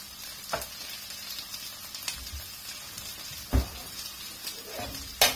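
Chilies hitting a hot pan of prawn curry give a soft, steady sizzle with a few sharper crackling bursts and spits rising over it now and then.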